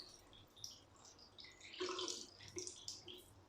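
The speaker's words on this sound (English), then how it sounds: "So now I splash some water in." Water is splashed and poured onto sealed bathroom toilet floor tiles during a waterproofing job, giving faint, close splashing and trickling with a brighter burst of running water in the middle.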